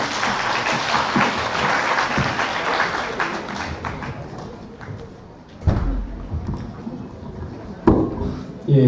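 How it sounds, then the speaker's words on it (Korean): Audience applause welcomes a musical performance at an education-forum talk concert, a dense wash of clapping for about five seconds that fades, followed by a few isolated thumps. No one speaks. "우리 박수로 한번 맞이해 주시기 바랍니다"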